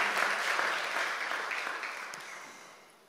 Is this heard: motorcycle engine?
no